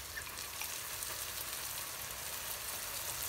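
Garlic fries in hot oil in a pan, giving a soft, even, continuous sizzle with a faint crackle throughout.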